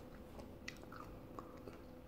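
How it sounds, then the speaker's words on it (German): Someone bites into a ripe, sweet persimmon with thin skin and chews it, making soft, faint, close, wet chewing sounds with a few small crunchy clicks. "Dann kannst du einfach reinbeißen."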